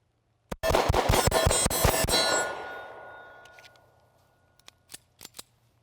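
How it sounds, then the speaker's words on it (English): A Springfield Ronin EMP 1911 pistol fires a rapid, loud magazine dump of about eight close shots in two seconds, followed by a ringing decay and a few faint metallic clinks of falling brass. "everybody loves a good mag dump, so let's get to it"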